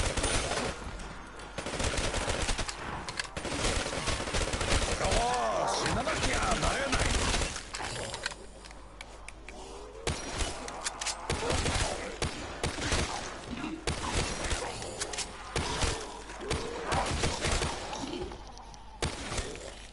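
M1 Garand rifle fire in Call of Duty Zombies, with repeated sharp shots spread through a busy, chaotic stretch of crashes and thuds while someone talks over much of it.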